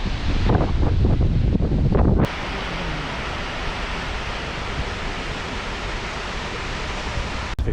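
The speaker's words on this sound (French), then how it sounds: "C'est une belle cascade." Skógafoss waterfall in Iceland roars as a dense, steady broadband rush, heavy and continuous, with wind buffeting the microphone at the start and no talking.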